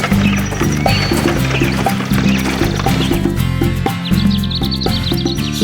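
A horse whinnies over steady clip-clopping hooves, with birds chirping in the background; the hoofbeats stay close and rhythmic while the neighs rise and fall.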